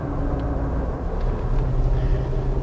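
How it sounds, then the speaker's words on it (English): A Jeep passes by outside another Jeep Wrangler JK, giving a steady low road rumble and engine drone that swells slightly in the middle and stays fairly constant, with no talking. "Oh, there's another Jeep coming by me."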